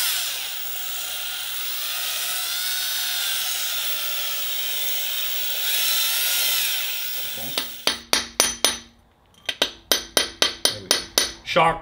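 A 10 lb sledgehammer striking a frozen piston in an engine block, about a dozen sharp metallic blows in quick bursts after a stretch of loud power-tool whirring, close and loud.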